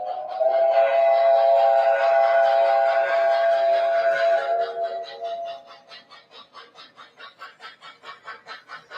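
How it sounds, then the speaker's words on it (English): A model C&O Camelback steam locomotive from an MTH collection sounds a chime steam whistle, a long clear multi-tone blast followed by rhythmic chuffing that fades out, fairly close and alone. "my favorite whistle in my collection is on my Camelback, my C&O Camelback"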